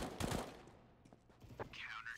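Gunfire crackles in a Counter-Strike match on the Mirage map, a quick exchange of shots in a short burst at the start, then faint scattered game sounds at low volume.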